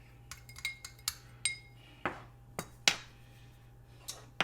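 A spoon clinks and scrapes around a bowl while potatoes are tossed with salt, giving a run of light, irregular metallic taps and a few brighter knocks with no talking.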